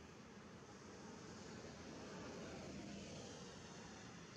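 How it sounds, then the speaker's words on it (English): An airplane climbs after takeoff past the end of the Austin-Bergstrom runway at night, a steady, faint, distant broadband engine roar with no other sounds. "check out how the plane is ascending"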